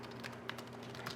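Typing on a computer keyboard while looking up Lightroom shortcuts, a steady run of light plastic key clicks with a few sharper taps, close and alone over a faint low hum.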